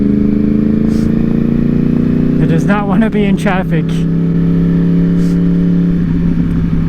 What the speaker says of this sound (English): You just cannot beat the sound of that cross-plane motor with the Toast exhaust